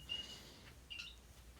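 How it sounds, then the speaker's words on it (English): Two short, faint bird chirps from the game Clash Royale, one near the start and another about a second later, over a quiet background. "If you hear a bird singing"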